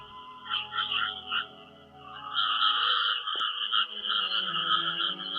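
Frog croaking in the Roblox game Grow a Garden, a steady, reedy, rattling call that pulses at first and then holds as a continuous drone.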